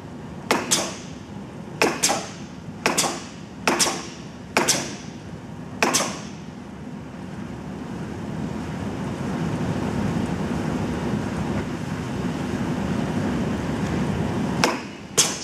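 A 60 ton Minster OBI flywheel press in inch mode thumps six times in a regular rhythm, followed by a sustained mechanical rumble and a final clank near the end, loud and close, with no talk.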